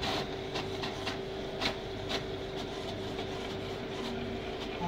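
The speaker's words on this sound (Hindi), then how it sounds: "देखिए प्रिंट होके बाहर आ गया" HP Deskjet Ink Advantage Ultra printer printing a page, a steady mechanical whir with a faint tonal hum and soft irregular clicks and ticks, heard close and alone.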